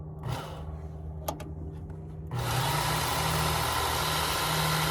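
Work Sharp Ken Onion knife sharpener spinning up to sharpen a Shun knife, its belt motor switching on after a few faint clicks and running as a steady, loud whir to the end.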